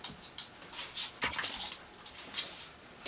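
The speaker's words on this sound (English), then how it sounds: "I should grab my dog before I start filming" A dog whimpers and pants close by indoors, giving soft breathy huffs and brief whines in irregular bursts, fairly quiet and with no speech over it.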